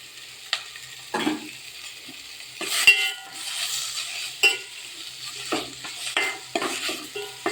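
Grated coconut stirred around a hot pan over full flame, giving soft scraping strokes and light sizzling with occasional spoon taps, at close range and fairly quiet.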